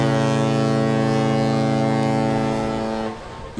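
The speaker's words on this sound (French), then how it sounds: "Une sirène et le bateau appareille pour Gênes" A deep, loud cruise ship horn blares in one long sustained blast as the ship departs, rich and droning, before cutting off near the end.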